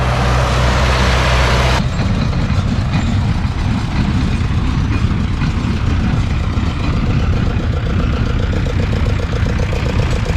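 A loud, rumbling diesel engine of a YuMZ T25 tractor idles steadily up close, a constant low chugging that fills the whole stretch without pause.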